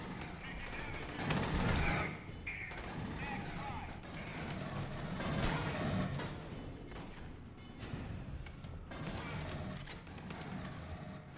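Turret gunfire in the video game Aliens: Colonial Marines comes as dense, continuous bursts of automatic shots with crashing impacts. It runs loud throughout, with a voice talking over parts of it.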